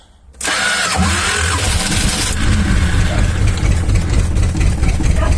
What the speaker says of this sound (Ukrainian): Стартер крутить бодрячком.